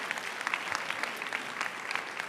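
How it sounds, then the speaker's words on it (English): Summit attendees applaud the morning's speakers, a steady, moderately distant spatter of many hands clapping without pause. "One more round of applause for all of the speakers this morning"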